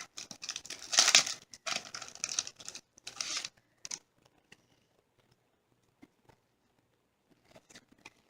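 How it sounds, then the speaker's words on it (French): Close crinkling and rustling of plastic wrap in several bursts, then quieter scattered handling noises trailing off toward near silence. "Attendez, je vais sortir du plastique."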